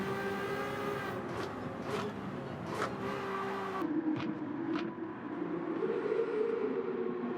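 Ferrari 296 GTB racing engine in Gran Turismo 7, screaming at high revs down a long straight behind another car, steady and loud with rising and falling harmonics, with brief gear-shift bursts.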